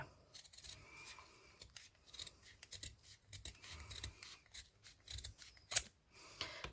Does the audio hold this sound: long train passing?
no